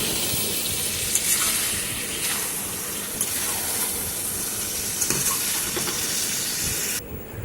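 Chicken and tomato fry on a hot tawa with a loud, constant hiss and sizzle, overlaid by occasional scraping stirs close by.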